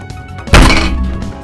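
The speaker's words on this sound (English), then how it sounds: "That's me banging the can." A Crush soda can banged once, a single hollow thunk that rings briefly and fades, with no voices.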